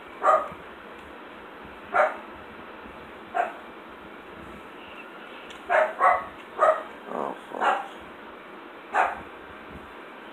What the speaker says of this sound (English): Sorry for my annoying doggo barking